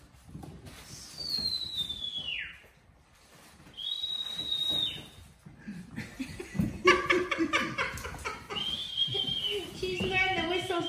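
Clear human whistles, one long falling note, then shorter steady tones, mixed with laughter and a noisy, chattering background.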